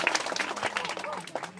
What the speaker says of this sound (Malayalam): കൈയടി കൈയടി.